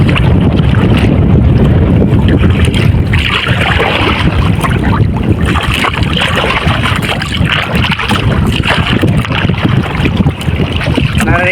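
Strong wind roars steadily against the microphone, buffeting loudly throughout with a low rumble and constant noise, as if out on open water.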